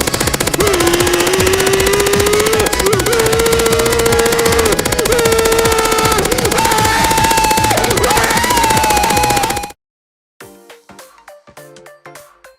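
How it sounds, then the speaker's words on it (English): A heavy machine gun fires in the Punishing: Gray Raven video game as a loud, continuous rapid burst over game music, stopping abruptly and leaving a few sparse clicks. "Heavy machine gun!"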